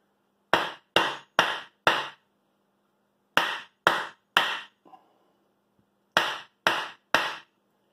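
Sharp hammer blows strike the gas piston of an office chair in three bursts of four, four and three evenly spaced metallic knocks, close and loud, separated by brief silences.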